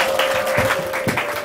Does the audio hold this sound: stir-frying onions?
no